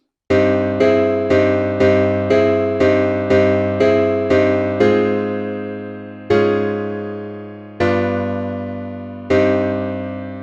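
A sustained piano-like instrument plays a chord progression from a song, struck chords repeating in a steady pulse, then a few longer ringing chords that decay slowly.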